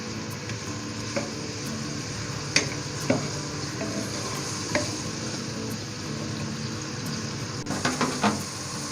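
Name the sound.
onions frying with garlic ginger paste in a pan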